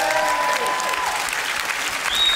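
Audience applause on a stage show, a steady even wash of clapping throughout, fairly loud, with a faint tone running briefly beneath it.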